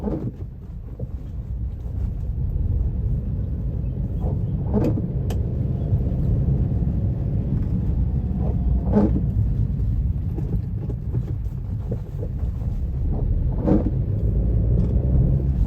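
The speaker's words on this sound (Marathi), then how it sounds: "बघा समोरूनच ट्रेन जाते आहे." A Konkan Railway train rumbles past in heavy rain, a continuous loud low roar with occasional sharper clanks and rattles over about fifteen seconds.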